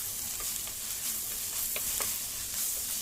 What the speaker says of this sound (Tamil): இப்போ நம்ம இதை ஒரு 3 நிமிஷத்துக்கு ஸ்லோ ஃபயரில் வதக்கி எடுத்துக்கலாம்.